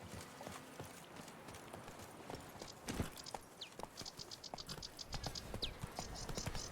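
Horse hoofbeats in The Witcher 3 form a steady clip-clop of a walking horse over rustling game ambience, with faint chirps and a louder hit near the middle.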